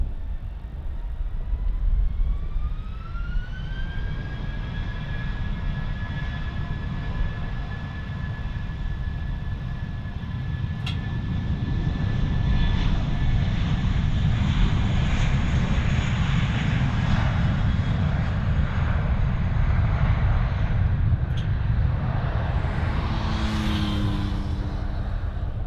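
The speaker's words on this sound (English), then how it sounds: "There we go, Jetstar's powering up." Jetstar jet airliner engines spool up at Melbourne Airport, a rising whine climbing in pitch over a steady loud roar that holds and builds for the whole stretch.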